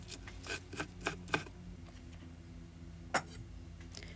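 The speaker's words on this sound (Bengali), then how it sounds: "সেজন্য এখানে নিয়ে নিয়েছি কিছু পেঁয়াজ পাতা। এগুলোকে আমি কুচি কুচি করে কেটে নিব।" Knife finely chopping spring onion greens on a board, a handful of crisp taps in quick succession, a pause, then a few more cuts, close and quiet.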